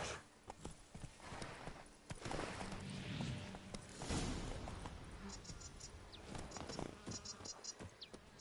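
Hooves of Geralt's horse Roach in the video game The Witcher 3: Blood and Wine, irregular clip-clop steps slowing to a halt over a bed of buzzing insects and chirping crickets, near and faint.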